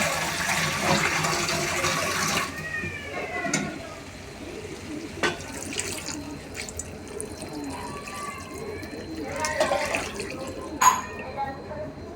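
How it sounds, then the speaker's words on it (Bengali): Water is poured into a pan of tengra fish curry cooked with pointed gourd, a rushing pour for the first couple of seconds, then quieter bubbling, clinks and faint sounds with a voice in the background. "এবার আমি জল দিয়ে দেবো।"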